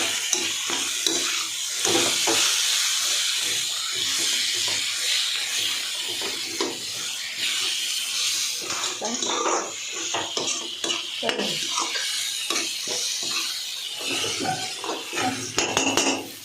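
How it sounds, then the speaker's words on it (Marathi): Eggplant bharit mixture is sautéed in a pan, giving a continuous sizzle broken by repeated scraping and stirring strokes and occasional clinks of a utensil against the pan. "पूर्ण असं व्यवस्थित परतून घ्यायचं मस्त"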